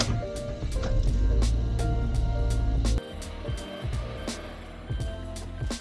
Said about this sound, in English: You can hear the engine right now.